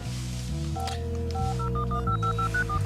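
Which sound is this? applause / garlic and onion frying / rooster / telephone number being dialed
telephone number being dialed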